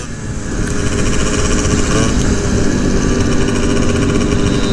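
Several fast two-stroke scooter engines revving on a city street, a loud, buzzing, high-pitched drone that swells in and then holds steady and close with no talking.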